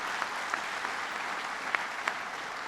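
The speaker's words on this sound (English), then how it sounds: "let's give him a round of applause for all his hard work." Soft, distant audience applause at a state manufacturing-facility announcement event, a steady patter of clapping with a few sharper individual claps standing out.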